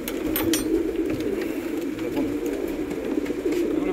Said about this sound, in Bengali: এক জোড়া পালসার পায়রা আপনাদের দেখাবো